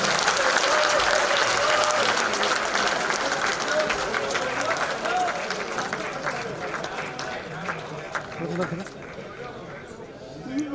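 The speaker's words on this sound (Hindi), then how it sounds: "कृपया जोरदार तालियां बजाकर उनका स्वागत करें, अभिनंदन करें" A large audience at a BJP intellectuals' conference claps loudly to welcome Amit Shah, dense sustained applause that gradually thins over several seconds, with a voice speaking over it.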